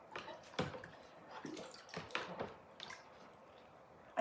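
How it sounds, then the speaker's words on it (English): Etched drinking glass being washed in a container of water with a paper towel, giving quiet irregular squishes, drips and wet rubbing in close, faint bursts. "I'm just gonna stick it in my water and use my little paper towel to wash the etching cream off."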